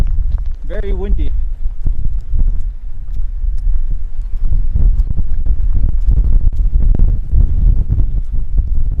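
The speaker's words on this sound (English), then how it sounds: "Very windy." Strong gusts buffet an exposed roadside station in a coastal city, rumbling as loud, steady wind noise across the microphone, with voices talking faintly underneath.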